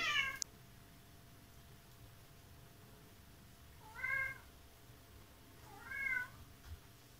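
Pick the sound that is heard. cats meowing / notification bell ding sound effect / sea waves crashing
cats meowing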